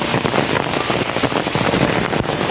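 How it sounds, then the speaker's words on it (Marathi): Steady rain falls during paddy rice planting in the fields, a dense, continuous patter with sharp drop hits spread evenly throughout, close and fairly loud with no voices over it. "आता पाऊस किती पडताय बघा"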